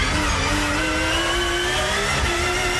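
Touring car engines roar steadily at high revs in a 1990s championship race as a white Honda challenges for the lead, with rising engine pitch and dense, loud mechanical noise throughout.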